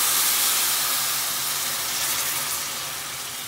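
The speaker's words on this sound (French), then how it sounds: "On va pouvoir verser notre bouillon bouillant en plusieurs étapes." Hot, boiling broth poured into risotto rice with asparagus, a continuous hissing, sizzling wash that stays loud and steady and fades slightly toward the end.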